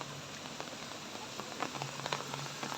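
Splashing water of a waterfall at the Singapore zoo, a steady soft wash with scattered patters, fairly faint with outdoor ambience.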